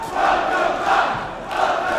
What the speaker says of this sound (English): Crowd saying welcome back